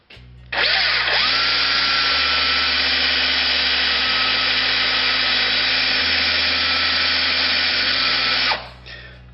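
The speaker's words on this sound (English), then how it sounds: "I'm going to go back to the cordless drill trick" A cordless drill spins the 3-jaw chuck of an Atlas lathe to run its jaws in, a steady loud whir of the motor and turning chuck lasting about eight seconds, with the drill's speed stepping up and down as the trigger shifts.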